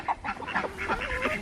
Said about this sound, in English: Over here to these free-range ducks.